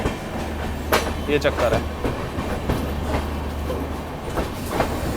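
Amritsar-bound Swarna Shatabdi Express pulling out of New Delhi station, with a steady low rumble and scattered wheel clicks and knocks as the carriages roll. A voice speaks briefly over the noise.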